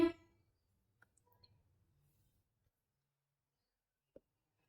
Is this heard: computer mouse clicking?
yes